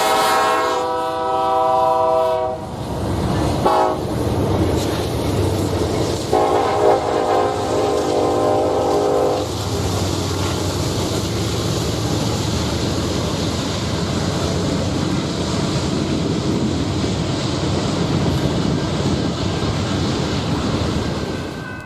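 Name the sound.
Norfolk Southern intermodal freight train NS 233 passing, horn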